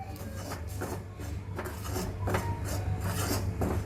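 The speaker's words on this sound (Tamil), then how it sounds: "இதை வந்து நான் இப்படி லைட்டாக கிண்ட போகிறேன்." Rice flour being lightly stirred in a pan with a spoon, a steady dry rasping scrape that repeats in soft rhythmic strokes over a constant low hum, close and alone.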